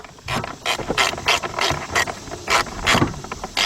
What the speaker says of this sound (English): Now I'm gonna tighten these 2 bolts up under there.